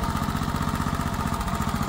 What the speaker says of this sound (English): We got an engine that run and don't stop.